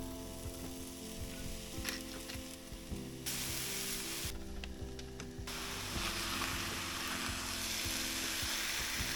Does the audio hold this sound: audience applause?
no